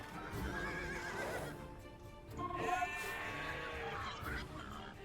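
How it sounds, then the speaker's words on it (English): Sheep bleat in Age of Empires 2 Definitive Edition gameplay, mixed with horse-like whinnies and hoof clip-clops, forming a busy layered soundscape of continuous animal calls at steady volume. "We need all these sheep to go over here."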